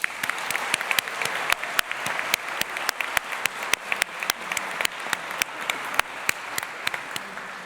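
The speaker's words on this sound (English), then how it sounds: "let's have a round of applause for the academic and support staff of your faculty" Applause fills a hall at a university graduation ceremony, many hands clapping steadily and evenly for several seconds at moderate distance, with no voices over it.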